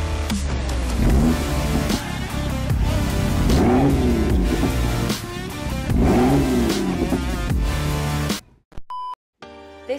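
A 2010 BMW E92 M3 Monte Carlo limited edition with a 4-litre naturally aspirated V8 revving hard, loud rising and falling exhaust blips up close, cutting off near the end before a few faint beeps.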